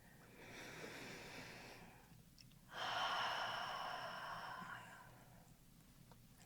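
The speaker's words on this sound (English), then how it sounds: "we'll start off by taking in 3 long breaths" Two long, deep breaths: a slow, airy draw, a short pause, then a louder, fuller breath that tapers off gradually, close and steady with no talking over it.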